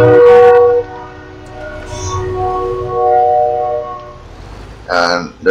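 A train horn blares loudly in a farming video game, then a long rumbling pass follows with a second horn blast near the end, while players chatter over it.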